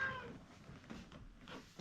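An indoor house cat gives a faint, short meow or two, quiet and close, with no talking over it.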